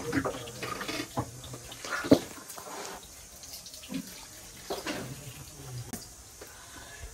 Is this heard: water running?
yes